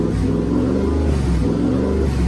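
Twin turbo V8 swapped into a Ford Focus project car, idling roughly with a loud, uneven low rumble and a lumpy, pulsing beat that carries on without a break.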